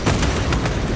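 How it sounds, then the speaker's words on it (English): A frag grenade goes off in Warhammer 40,000: Space Marine 2, giving a short dense burst of booming, crackling noise that lasts about a second at close range. "Deploying frag grenade!"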